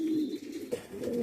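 A Spanish Pouter pigeon with a big pouting crop at a pigeon show gives one low, steady rolling coo close by, alone without talk.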